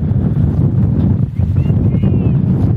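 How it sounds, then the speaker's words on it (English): Strong wind buffets the microphone at an outdoor girls' high school soccer game, a constant loud low rumble with gusty swells throughout, no clear voices over it. "Very, very windy conditions here."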